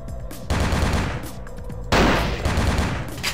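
Video game guards open fire with guns in loud, sustained bursts of shots that surge in two waves, dense and close, with no talking.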